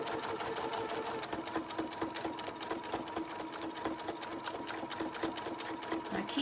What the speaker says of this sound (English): holding up our threads for our first stitch so that it doesn't disappear, and then sewing forwards